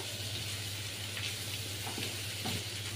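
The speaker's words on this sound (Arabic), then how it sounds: "وهنقلب كل الكلام ده كده مع بعضه ياخد تشويحه كده" Coriander, black pepper and cumin sauté in a pan, giving a soft, steady frying sizzle with faint stirring scrapes, quiet and close with no voices.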